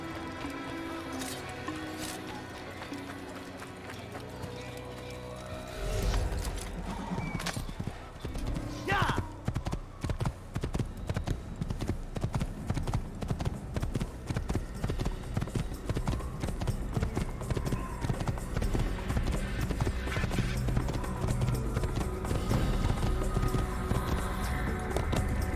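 A horse in Assassin's Creed gallops in with rhythmic hoofbeats that start after a few seconds and keep up a driving clatter, with a brief neigh and someone talking over the game sounds.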